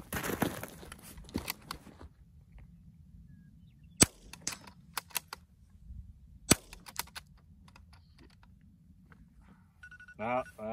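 Rifle shots ring out during a timed impact-shooting drill, with two sharp, loud cracks standing out among fainter clicks and handling noises, while people talk quietly at the start and near the end.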